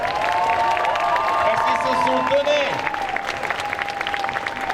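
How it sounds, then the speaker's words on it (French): Audience applause and cheering at a cosplay show at a geek convention, a dense steady wash of clapping with whistles and shouts, while a host talks over it. "est-ce qu'on peut leur faire un tonnerre d'applaudissements?"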